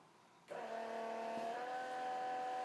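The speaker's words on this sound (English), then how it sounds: "So we're going to activate the pump." A water pump in an Oasis RV water system switches on abruptly to purge the lines, then runs as a steady, moderately quiet motor hum with faint rising tonal whine, no talk.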